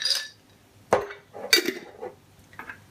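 Almonds and a few cashews dropped into a glass jar for overnight oats, giving a few sharp clinks and small rattles spaced out over a few seconds, close and fairly quiet, with no talk.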